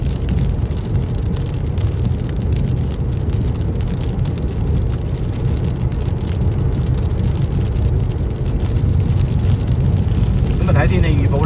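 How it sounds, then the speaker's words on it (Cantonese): Heavy rain drumming on a car while driving on a US road trip, a dense, steady roar with low road rumble throughout, loud and continuous with no clear gaps. "越大雨越好。"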